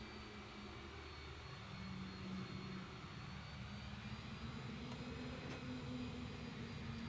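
Boeing 787-10 jet engines heard from outside the aircraft in a flight simulator, a steady, full roar with a low droning hum and a faint high whine holding evenly throughout, no talking.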